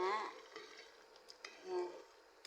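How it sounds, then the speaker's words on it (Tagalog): Creamy shrimp sauce bubbling and sizzling softly in a pan, a low steady simmer with a few faint clicks of stirring. "Ayan, kumukulo na siya."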